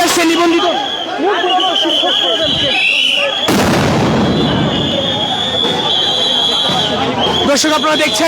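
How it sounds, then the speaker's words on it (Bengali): Police sound grenades go off at a street protest by teachers in Bangladesh: a loud, sharp blast erupts midway and a rough, rumbling roar follows, while a reporter speaks continuously throughout amid crowd noise. "পুলিশের পক্ষ থেকে সাউন্ড গ্রেনেড মারা হচ্ছে"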